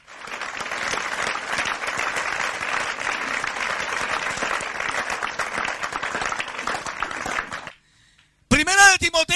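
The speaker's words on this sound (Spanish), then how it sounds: "Démosle un aplauso al Señor Jesucristo esta mañana." A church congregation applauds Jesus during a sermon, with loud, dense clapping that holds steady for about seven seconds and then cuts off abruptly, followed by a brief burst of speech.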